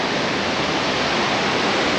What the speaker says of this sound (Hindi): वाटरफॉल का शोर सुनाई दे रहा होगा आपको, काफ़ी मधुर आवाज़ लग रही है मुझे